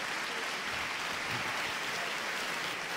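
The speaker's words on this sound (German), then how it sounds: "Großen Applaus hier" Faint, steady applause rises from an audience after a talk at a science slam event, sounding distant and evenly spread with no voices on top.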